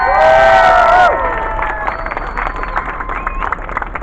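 Crowd at an anti-racism march and rally in Glasgow cheering and clapping, a loud burst of whoops and shouts that quickly settles into scattered applause and calls, heard at middle distance outdoors.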